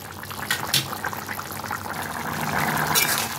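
Egg curry with fried potatoes and onions simmers in a pan, a close, continuous bubbling boil with soft liquid pops that grows slightly louder toward the end.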